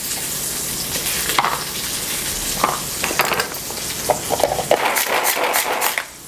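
Steady sizzling of garlic, peppers and onion frying in a pressure cooker pot, with occasional stirring scrapes and clinks rising above the continuous crackle.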